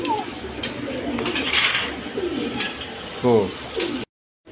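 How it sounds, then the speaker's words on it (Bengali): Pigeons coo in low, rolling bursts nearby, with someone talking over them and a louder throaty coo near the end before it cuts off. "এখানে এক পেয়ার বোম্বাই কবুতর আছে, অরিজিনাল ইন্ডিয়ান বোম্বাই কবুতর"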